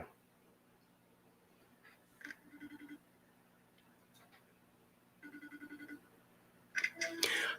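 An old, failing phone rings with an incoming call in two short bursts of electronic trilling, fairly faint against a quiet room, before a louder burst of noise near the end.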